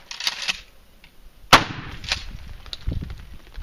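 A shotgun fires a single loud double-aught buckshot round outdoors at a range, a sharp close blast with a brief echo and ringing tail, with faint earlier pops from elsewhere on the range.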